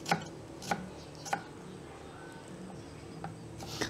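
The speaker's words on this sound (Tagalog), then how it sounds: "nahiwa na po natin yung mga rekado natin, yung ating bawang, sibuyas, luya, saka yung ating kamatis" A knife chops onion, garlic, ginger and tomato on a board in a home kitchen. Sparse, sharp knocks come at irregular intervals, faint against a quiet background hum.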